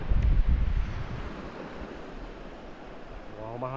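Sea waves grow larger and break while wind buffets the microphone along the coast at Kiamba, loud at first and then easing into a steady rushing.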